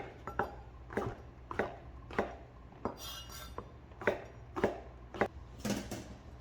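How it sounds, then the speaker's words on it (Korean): Knife chopping onion and mushrooms on a board, a regular series of sharp close taps about twice a second with a faint clink of utensils, quiet and without talk. "양파 좀 도톰하게 썰어 주세요. 버섯 있으면 버섯도 썰어주고"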